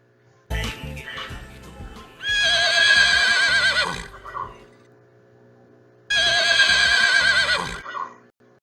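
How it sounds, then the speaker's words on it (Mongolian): A horse neighs loudly twice, each whinny long and shrill, separated by a few seconds of quiet, with some shuffling noise before the first. "Морь янцгааж байна"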